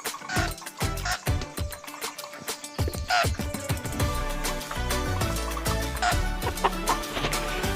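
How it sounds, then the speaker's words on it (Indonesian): Pet chickens clucking close by in Sumenep in short irregular bursts, with scattered bird calls and clattering noises mixed in; no talking. "Dan ini adalah ayam kesayangan aku"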